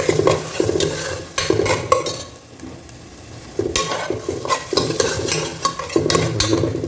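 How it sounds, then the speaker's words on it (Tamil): Onions and garlic paste sautéing in a pan for Ambur-style mutton biryani, with steady sizzling, frying and stirring scrapes, a brief quieter lull midway, then busy clinking of utensils against the pot. "ஒரு மூணு நிமிஷம் கொஞ்சம் வதங்கிட்டோம் அதுக்கப்புறம் பூண்டு பேஸ்ட் போட்டுருங்க"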